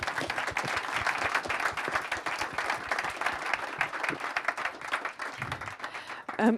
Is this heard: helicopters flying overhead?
no